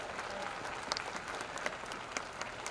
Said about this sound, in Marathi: आई वडिलांसाठी एकदा जोरदार टाळ्या वाजवून त्यांचा सत्कार करा